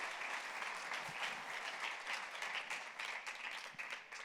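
A church congregation applauding, a steady wash of many hands clapping that continues evenly throughout, fairly distant and faint.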